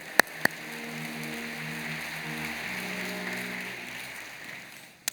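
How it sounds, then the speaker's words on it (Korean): Church congregation applauding in welcome during an Easter Sunday worship service, a steady wash of moderate clapping lasting several seconds with a low sustained organ or keyboard tone underneath, preceded by a couple of sharp knocks. "여러분 그 박수로 환영하시지요."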